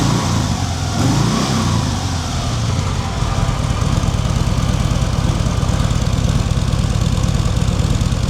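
2023 Harley-Davidson Sport Glide with a 107 engine running at idle, a steady, loud, close-up low throbbing rumble with mechanical clatter throughout, holding even with a slight shift around three seconds.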